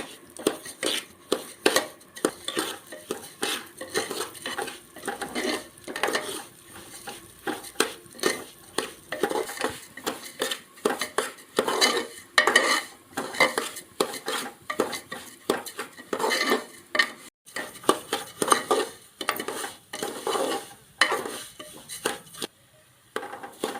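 A spoon stirs and scrapes cracked wheat lapsi roasting in ghee in a metal pan, giving repeated close scraping and clinking strokes in an uneven rhythm over a faint sizzle, with no talk.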